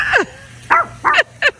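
A dog gives four short, sharp barks close by, spaced unevenly, with quiet between them.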